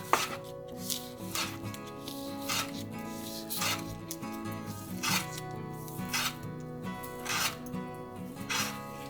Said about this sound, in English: we want to keep cutting on a bias throughout the whole carrots